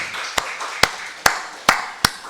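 Congregation clapping during a Sunday church service, five sharp, evenly spaced claps in a slow rhythm, loud and close, with a light background murmur between them.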